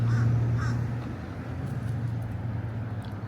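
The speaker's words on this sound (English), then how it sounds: "More birds are flocking around." Crows caw a couple of times nearby over a low steady hum and outdoor background, with faint distant calls later.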